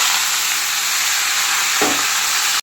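Black cumin seeds crackle and sizzle loudly in hot oil, a steady frying hiss with a brief stirring scrape near the end before it cuts off.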